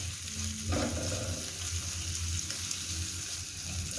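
Carrots sautéing with garlic in a pan, a continuous moderate sizzle with a brief clatter near the start and a faint low hum beneath, no voices.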